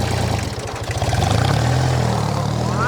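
A tractor engine idling nearby in a village setting, a low throbbing putter whose pulses quicken and then settle into a steady hum, with a faint rising whine near the end.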